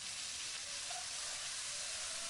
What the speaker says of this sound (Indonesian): Kalau sudah panas, kita mau masukkan bumbu sudah tadi kita ulek-ulek.